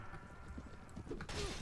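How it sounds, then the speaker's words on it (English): A horse in a medieval-fantasy video game takes a fatal shot, with hoof clip-clops and a strained whinny rising near the end over busy game noise. "Wow, he just one-shot our horse."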